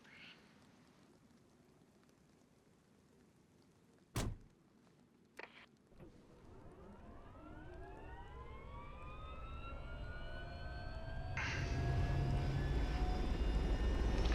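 A helicopter in the DayZ Expansion video game spins up, turbine whine rising steadily in pitch over a growing rotor roar, with a few sharp clicks early on before the engine builds to a loud sustained drone.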